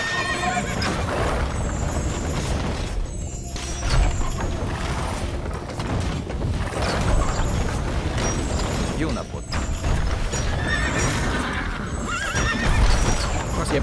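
In the strategy game Age of Empires II, horses neigh repeatedly over continuous hoofbeats while someone talks throughout, the whinnies recurring every few seconds amid busy battle clatter.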